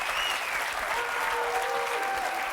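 A studio audience on a TV game show applauds loudly and steadily, a dense, even wash of many hands clapping throughout.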